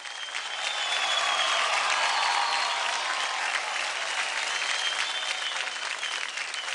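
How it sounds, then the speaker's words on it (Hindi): A studio audience at a dance show breaks into sustained, loud applause with crowd cheers, a dense and steady wash of clapping that holds from start to finish. "जोरदार तालियां हो जाए अमृता के लिए"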